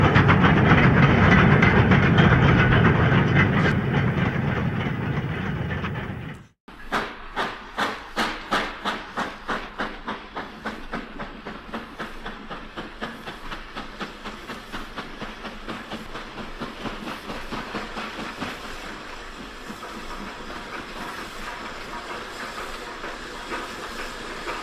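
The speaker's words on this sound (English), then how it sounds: "at the rear by the Lostock banking engine, an Ivet Mogul 43033" A steam train with an Ivatt Mogul 43033 banking engine at the rear, built May 1949, works past. A loud roaring hiss cuts off abruptly, followed by steady rhythmic clickety-clack and rumbling of wagons continuing at moderate level.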